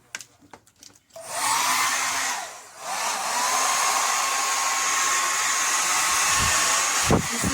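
A Revlon 1875-watt infrared hair dryer switches on after a few handling clicks and blows with a steady, loud broadband whoosh, dips briefly as the setting changes, then runs evenly again with a knock near the end.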